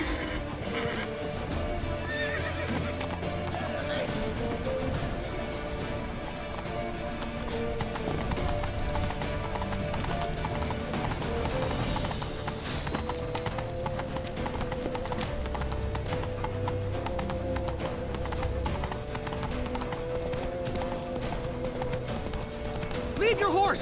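Horse hooves clip-clop steadily through The Witcher 3, with a horse neighing and whinnying at points, all under game music and ambient background.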